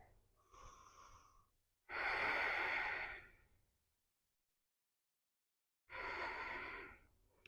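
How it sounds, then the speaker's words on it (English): Deep, slow breaths during a yoga pose in a calm sound-bath session: a soft inhale, then two strong, airy exhales a few seconds apart, close and clear with quiet pauses between. "take a few deep breaths"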